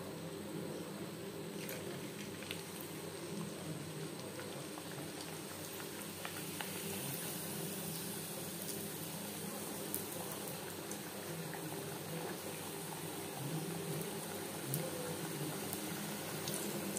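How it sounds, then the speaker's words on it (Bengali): Papri, crisps of flour dough, deep-fry in hot oil with a dense, even bubbling fizz that runs unbroken at moderate volume, with a few small pops and no voices. "এইভাবে প্রত্যেক ব্যাচের পাপড়ি ভেজে নেব।"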